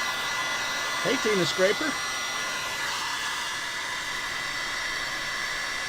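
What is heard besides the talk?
heat gun blowing hot air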